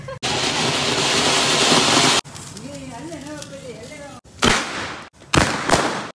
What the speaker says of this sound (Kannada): ಪಟಾಕಿ ಆರಿಸುವ ಸಮಯ.